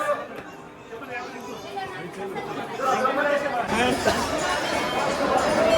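Large crowds packed into queues at Jivdani Mata temple in Virar on a New Year morning fill the air with continuous overlapping chatter, the hubbub growing louder and denser toward the end.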